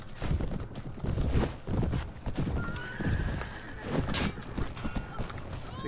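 Horses gallop and neigh in Mount and Blade Warband with the Floris mod, with loud rhythmic hoofbeats pounding through battle noise and a sharp whinny rising midway, close and busy throughout.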